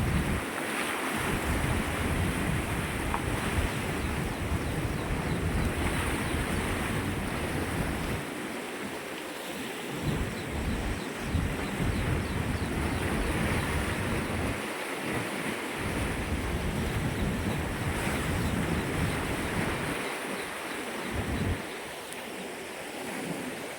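A loud, continuous roar of fast water rushing at the Musi dam, with a broad, wind-blown rumble, steady throughout and heard up close.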